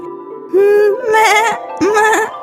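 A pregnant goat bleats in two wavering, nasal calls, close and loud, the second shorter than the first.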